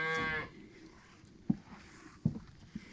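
Cattle in a grazing herd in Zambia give a single loud, close moo at the start, followed by a few soft thumps and faint rustling outdoors.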